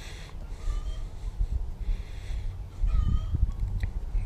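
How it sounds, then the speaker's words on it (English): Backyard hens cluck and squawk in the background after one lays an egg, faint excited calls rising and falling over breathy close noise. "Y'all can probably hear the chickens and our chickens in the background."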